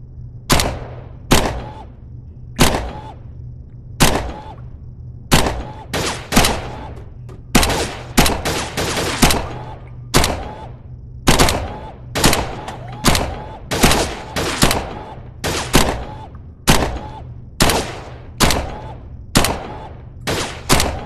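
Rapid SMG gunfire in the VR shooting game Gun Club VR, loud sharp bursts repeating in a steady rhythm of quick volleys across the whole stretch, with a low constant hum underneath.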